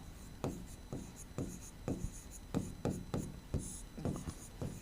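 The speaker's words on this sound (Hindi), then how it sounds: "निष्कर्ष यहाँ पे लिख रहा हूँ" Chalk or pen strokes on a board during a history lesson, heard as a close series of about a dozen quick scratchy taps and short rubs in an uneven writing rhythm, with no talk over them.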